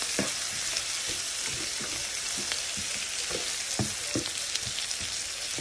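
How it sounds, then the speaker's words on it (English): Brussels sprouts fry in a pan with honey sriracha and chili garlic sauce, giving a loud, dense, continuous sizzle with scattered crackles and soft stirring knocks, and no one speaking. "And we're going to fry this up"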